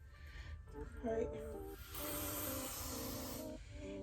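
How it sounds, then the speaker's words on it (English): Aerosol hair spray bursts close by onto a lace wig in a sustained, loud hiss lasting over a second, with someone talking just before and after it. "So now we get our spray."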